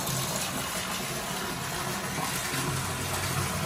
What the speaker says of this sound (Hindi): ये देखिए जी ये आ गया बोर में पानी।